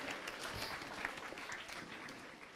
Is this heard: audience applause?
yes